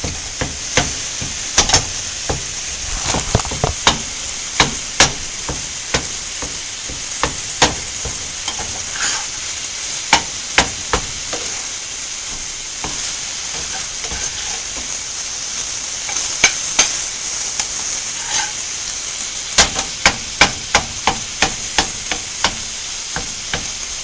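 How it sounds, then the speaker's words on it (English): Meat frying in a pan gives a steady, loud sizzle throughout, broken by frequent sharp clicks and scrapes of stirring. "It don't take much time to fry the meat."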